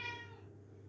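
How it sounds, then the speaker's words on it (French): A cat gives a single short meow, close and fairly clear, heard alone. "Je connais un qui fait miaou."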